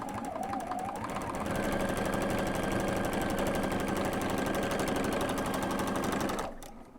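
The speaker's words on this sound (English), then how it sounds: "So I set my needle to the 1/4 of an inch, and I will just stitch." Sewing machine stitching a quarter-inch seam on a Santa hat quilt block, a steady close motor whir with rapid needle clatter that speeds up, runs continuously for about five seconds, then stops.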